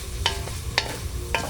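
Homemade fishballs sautéing in a pan, a quiet steady sizzle broken by three short sharp scraping or tapping strokes, no talk.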